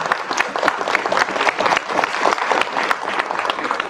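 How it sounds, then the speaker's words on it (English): Audience applause fills a school career day gathering, steady dense clapping sustained throughout at moderate loudness without pause. "Let's clap it up for them"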